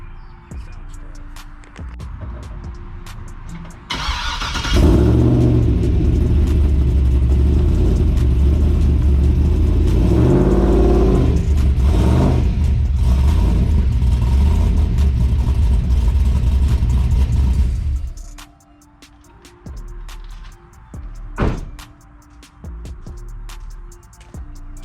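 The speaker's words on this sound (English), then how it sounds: "back this truck up on them, see if they flex any or kind of distort any" A pickup truck backing up onto Pittsburgh Automotive 13,000 lb car ramps from Harbor Freight, its engine rumbling loud and steady for about fifteen seconds before dropping to a quiet idle.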